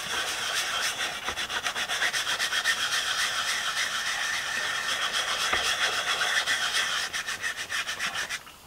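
A brush scrubs the fabric seat of a FIAT 500 with a steady, rapid back-and-forth rubbing that runs nonstop and close, with no talking.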